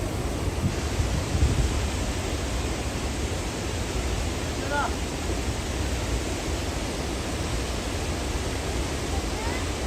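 A steady, roaring rush of falling water fills the whole stretch, constant and dense, close to Gira Falls near Waghai.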